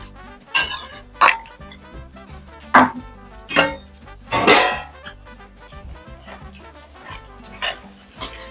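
Capsicum being stir-fried on high flame for chicken fried rice, heard as loud, irregular metallic clanks and scrapes of a spatula against the pan, with quieter gaps between bursts.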